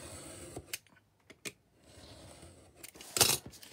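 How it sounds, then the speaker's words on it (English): Scissors snip through paper while trimming a manila folder for a craft booklet, a few sharp separate cuts with short pauses between, close and fairly quiet. "Then you just got to cut straight."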